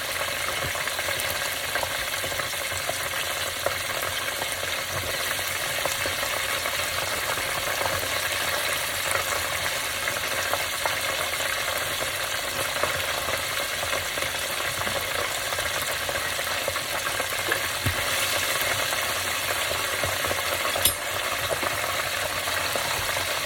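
Fish fries home style in hot oil, giving a steady, even sizzle and crackle that lasts throughout with no one talking.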